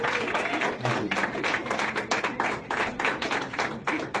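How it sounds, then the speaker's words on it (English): A comedy club audience claps steadily for comedians, with dense, close applause and scattered individual claps running throughout. "Clap it up one more time."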